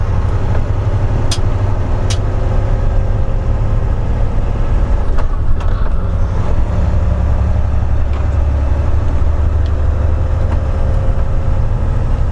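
A heavy haul truck carrying an 80,000-pound CAT 950M load pulls along a highway, with a loud, steady low engine drone and road rumble heard continuously from inside the cab, with no talking.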